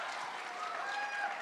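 A school assembly audience claps for a student, a brief, even patter of many hands at moderate volume, with faint voices underneath.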